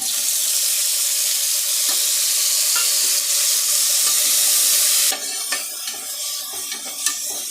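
Onion, chili and tomato fry in a pan with a loud, steady sizzle that fills the first five seconds, then eases into a softer crackle with scattered stirring clicks, and no voices are heard.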